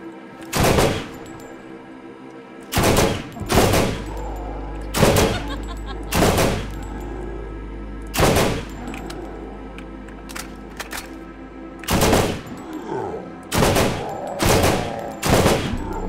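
Bursts of gunfire from a burst-fire gun in Borderlands, loud sharp clusters of shots recurring every second or two while zombies are cut down, with quieter game ambience between bursts.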